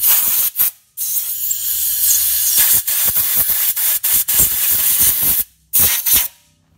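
Compressed air blasts in long loud bursts and short rapid spurts, cleaning the front brakes on a Toyota Land Cruiser, close up with brief pauses between gusts.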